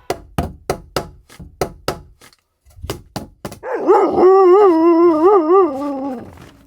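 A dog gives a run of about a dozen sharp, close barks, then lets out a loud, wavering, husky-like howl lasting a few seconds.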